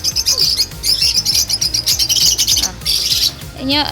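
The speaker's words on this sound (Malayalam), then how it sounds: "ഇവിടെ കുറേ കിളികളുണ്ട്." A crowd of birds in a farm enclosure chirp, tweet and squawk close by in busy, overlapping bursts, with brief wing flutters.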